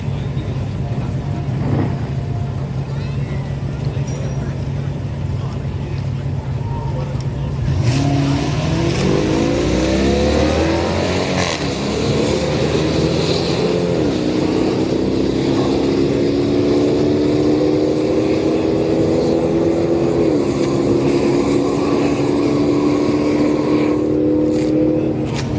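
A Dodge Durango launches down the strip at a street-night drag race at Orlando Speed World, its engine revving up loud and rising through several gear pulls over the steady rumble of idling cars nearby.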